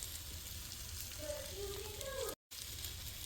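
An egg frying in a skillet that still holds browned bits left from cooked sausage gives off a steady, close sizzle with crackling throughout. Faint tonal sounds rise briefly partway through, and the sound cuts out for a moment near the end.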